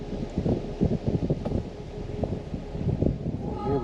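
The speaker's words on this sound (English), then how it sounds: "It's quite windy out here now." Steady wind buffeting the microphone outdoors in Vaucouleurs, France, a low rumbling roar that gusts unevenly throughout.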